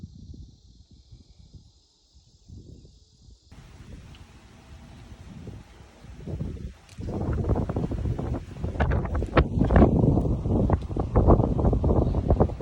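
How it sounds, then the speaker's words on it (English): Wind gusts rise from a faint rush to strong, blustery buffeting against the microphone, growing louder and rougher over the clip. "It's getting windy though."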